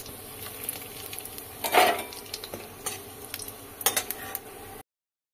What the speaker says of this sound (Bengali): কড়াইতে জিরে তেজপাতা ফোড়ন দিচ্ছি।